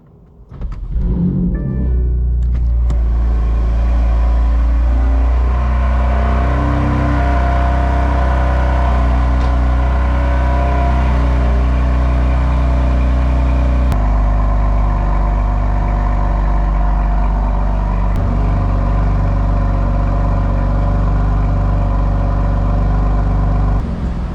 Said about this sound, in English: If any of you have never heard the BMW M Performance exhaust, that is what it sounds like on a cold start